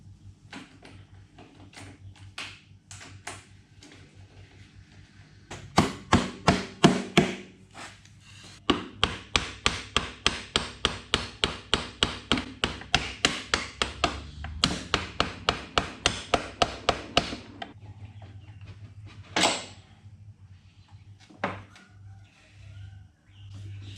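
Axle bolt being worked out of a KTM 350 motorcycle swingarm, a long run of sharp, evenly spaced metallic taps and knocks, close and fairly loud, preceded and followed by quieter scraping and handling.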